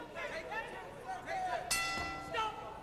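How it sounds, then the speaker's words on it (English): A boxing bell rings out near the middle of the round's end at the 2004 Olympic Trials, a ringing metallic clang with lingering tone under a commentator's voice and crowd noise. "There's the bell."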